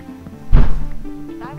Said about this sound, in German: hat gerade eine Tür geknallt